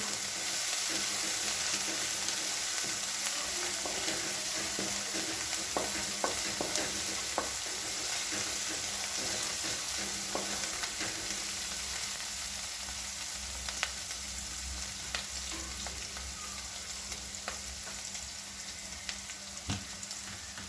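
Masala spices for an aloo baingan (potato and eggplant) curry fry in oil while being stirred, a steady broadband sizzle with occasional scraping ticks of the spoon, continuous and close, with no talking.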